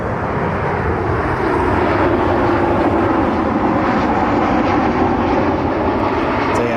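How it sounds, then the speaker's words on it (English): A United Airlines Boeing 737-900ER in Evo Blue livery roars loudly and steadily through its takeoff, a broad, continuous jet engine rumble holding near and powerful with no break. "Got a very loud United 737 taking off."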